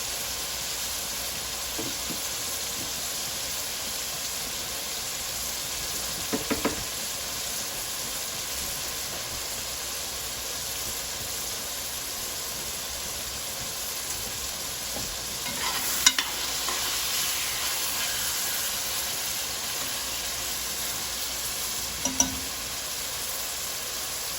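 Seasoning and vegetables cook in a pan for sweet potato dumplings, giving a steady, moderate sizzle and hiss throughout, with a few brief scrapes and clinks of stirring.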